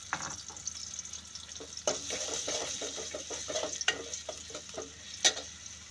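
Vegetables frying with dried fish and onion in a pan, with a steady hiss of sizzling broken by repeated clicks and scrapes of stirring and one sharper clatter near the end; no one speaks.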